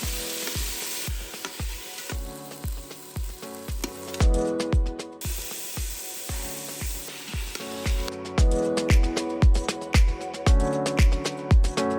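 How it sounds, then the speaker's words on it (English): Beef browning in batches in an Instant Pot after onions and garlic are sautéed for Vietnamese beef stew, loud sizzling and frying over a steady rhythmic beat with recurring bursts of hiss. "Brown beef in batches."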